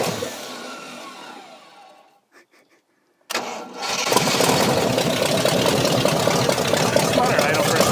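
An engine winds down and goes quiet, then a starter cranks briefly before a scrapped Jeep Cherokee's 360 V8 catches and roars into a loud, rumbling idle.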